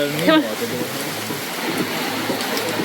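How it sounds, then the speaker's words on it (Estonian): Constant broadband rain noise from a sudden downpour in Thailand, filling the clip, with a brief voice near the start. "Järsku tuli vihm."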